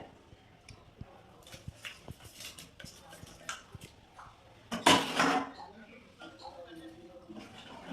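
A spoon taps and scrapes inside a pot of pitha simmered in milk as jaggery is added, giving scattered light clinks and one louder clattering burst, while a voice talks nearby.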